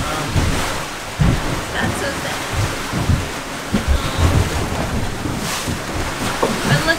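A squall at sea aboard a sailboat: steady roar of wind and rain with water washing around the hull, low rumbles and thumps throughout, and faint voices now and then.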